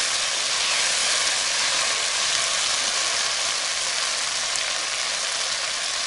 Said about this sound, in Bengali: এটা আমরা একদম ফ্রাই করে করতেছি গ্রিন গ্রিন করার জন্য